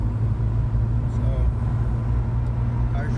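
A BMW 330i E46 cruising along, a constant low engine and road rumble heard from inside the car while someone talks over it.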